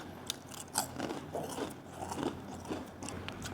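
Crunchy onion rings being bitten and chewed up close, several crisp crackling crunches over a few seconds.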